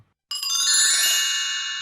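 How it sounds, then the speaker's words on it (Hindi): A telephone rings with a bright, sustained electronic ringtone that starts abruptly after a short silence and holds steady and loud to the end. "अचानक से फोन बजता है"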